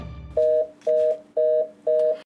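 A telephone line signal for an invalid number: four identical steady beeps at an even pace, each about a quarter second long, clear and alone with no voices.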